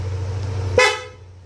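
A single short, loud honk from an original PIAA horn on a Yamaha Aerox V3 motorcycle cuts through a low hum, ringing briefly before fading.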